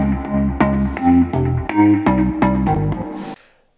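Donk bass synth patch in a Moog-style bass tone, playing a bouncy sequence of about ten punchy, plucked bass notes in steady rhythm, loud and close, ending abruptly with a short tail and no talking.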